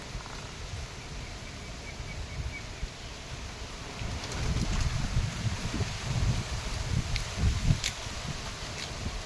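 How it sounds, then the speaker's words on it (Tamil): Strong wind gusts roar and buffet steadily through palm trees in a garden, with rustling fronds and rumbling microphone noise rising partway through. "இந்த காற்று எப்படி அடிக்குது பாரு பனை மரம் பாருங்க"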